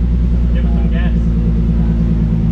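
Nissan 350Z HR idling through a full titanium Tomei exhaust, a loud, steady, deep burbling drone close by, with voices talking briefly over it.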